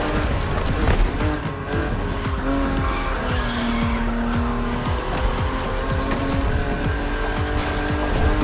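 A BMW Z4 E89 coupe cabriolet drives hard in The Crew Motorfest, a steady loud engine drone with shifting pitch and tires squealing and skidding through corners, continuous and close, with no talk.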